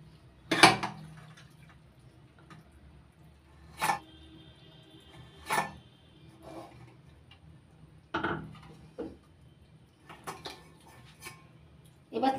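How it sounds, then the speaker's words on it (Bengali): Boiled banana flower tipped from a pressure cooker into a strainer in a kitchen, giving a few sharp, separate clatters and knocks of utensil and metal, with quiet gaps between them and no talk. "এবার সেদ্ধ করে নেওয়া মোচা ছাঁকনির মধ্যে তুলে নিচ্ছি।"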